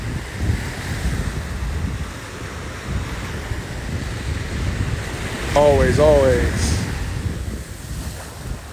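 Ocean waves wash onto the shore under heavy wind buffeting the microphone, a constant roaring surge; someone briefly speaks partway through.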